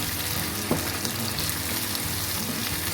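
Garlic ginger paste cooking on a low flame in a pan, giving a steady soft sizzle with a faint clink or two, no talking.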